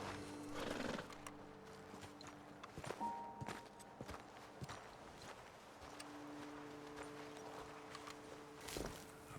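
Horses in the Red Dead Redemption 2 video game, with clopping hooves and a couple of whinnies, plus soft snorts and shuffling over a low ambient outdoor bed, moderately close and without talk.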